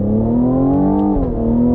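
A 2021 Cadillac CT5-V sport sedan pulling hard on throttle from inside the cabin, a loud steady engine drone climbing in pitch, dipping briefly at a shift, then resuming.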